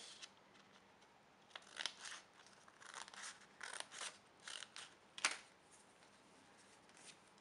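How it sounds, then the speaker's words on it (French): Scissors snip through four folded layers of paper to cut a rough square for a gift box, giving a quiet series of separate crisp cuts with short pauses between them. "Puis découper pour que ça fasse à peu près un carré."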